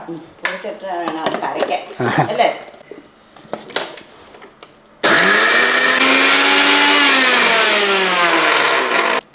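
A mixer grinder spins up loud and close to grind garlic and cumin seed, a harsh high whine holding steady for several seconds after a stretch of talking and small handling noises.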